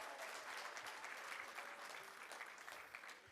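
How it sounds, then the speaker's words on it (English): Guests at a wedding reception applaud steadily for several seconds. The clapping is dense and sustained, heard in a moderately reverberant hall with faint murmuring underneath. "Let's give him a huge round of applause, guys."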